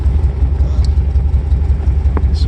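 A Porsche Speedster replica, the "Little Red" tribute with no choke, idles after a cold start, its engine loud and close with a steady lumpy low pulse and a faint click or two, no voices.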